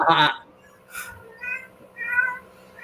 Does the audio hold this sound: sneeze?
no